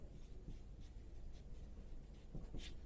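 Pen or pencil writing numbers by hand on paper, a soft steady scratching with faint strokes, close and quiet throughout.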